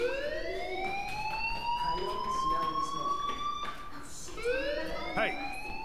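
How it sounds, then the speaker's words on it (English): Fire alarm in the video game Life Is Strange, loud wailing tones sweeping up and down in repeated cycles, with a brief sharper chirp near the end. "Do you hear that fire alarm?"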